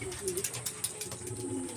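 A returning homing pigeon in a training flight cooing softly nearby, low throaty coos with faint clicks and rustles around it.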